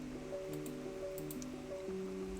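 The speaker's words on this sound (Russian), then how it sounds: "Ти соленой воды выпил." Salt water being drunk in the Raft survival video game: short wet squishing and dripping gulps, quiet and close, over a steady tonal game soundtrack.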